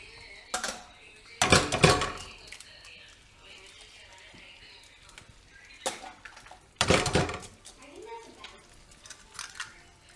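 Egg with chilli flakes is stir-fried in a pan, with loud bursts of metal scraping and clanking from a utensil against the pan in two main clusters, while quieter clinks fill the gaps and people talk nearby.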